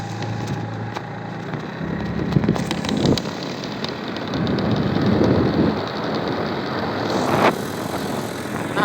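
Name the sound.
rain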